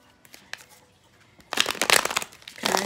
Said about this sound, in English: I'm going to shuffle one more time, and then I will cut the deck and start your reading.